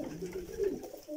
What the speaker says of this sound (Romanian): vreau să vă spun că porumbeii lui se prezintă bine